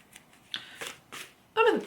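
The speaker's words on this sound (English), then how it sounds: "Let me just give it a good shuffle." A standard-size deck of cards is shuffled by hand, a few soft riffling bursts close up, ending in one louder, longer riffle.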